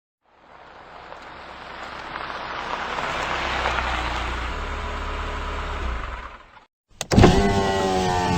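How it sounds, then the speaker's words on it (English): A car approaches in the Where in the World is Carmen Sandiego video game, a swelling engine and tire rumble that builds over several seconds, then cuts off, followed by a brief louder sound. "I hear a car coming."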